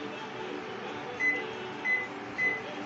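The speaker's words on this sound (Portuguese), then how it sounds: "Vou botar 3 minutinhos no micro-ondas." A microwave oven hums steadily in a home kitchen during a three-minute heating, with a few short electronic beeps repeating at a regular interval over the drone.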